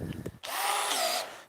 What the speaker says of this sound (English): I need to drill those holes first